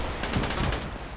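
A rocket launcher fires at an SUV in ARMA III, a loud sustained roaring blast with pulsing rumble across more than a second, close and alone without talk.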